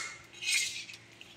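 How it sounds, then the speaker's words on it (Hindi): Cooked ridge gourd flower curry being spooned from one pot into another in a village kitchen, giving soft metallic scraping and a light clink of a spoon against the vessel, fairly faint, with no talking. "और इसको निकाल ले रही हूँ मैं दूसरे बर्तन में।"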